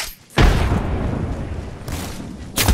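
A frag grenade detonating in the battle royale game Apex Legends, a sudden loud close boom that rumbles and decays over a couple of seconds before another sharp hit at the end.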